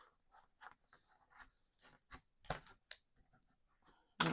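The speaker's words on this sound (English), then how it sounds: "We're just going to have to start burnishing down." Paper is burnished down onto a tri-fold scrapbook mini album, quiet rubbing and scraping strokes in short irregular bursts separated by near silence, with one sharper louder scrape at the end.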